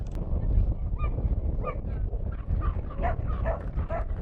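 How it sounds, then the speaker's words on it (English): Several small dogs barking and yelping in quick bursts at a small dog park during a companion dog club demonstration, moderately close over a steady outdoor crowd hum. "Let the dogs out!"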